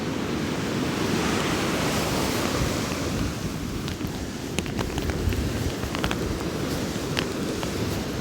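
Rough, stormy winter sea at Haysh harbor, waves surging and crashing in a continuous loud roar with heavy wind buffeting the microphone throughout.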